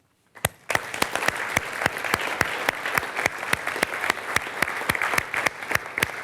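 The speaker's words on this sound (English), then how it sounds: "I think you also definitely deserve an applause" An audience at a scientific conference's closing plenary breaks into applause, starting abruptly and continuing as a dense, steady round with sharp distinct claps standing out up close.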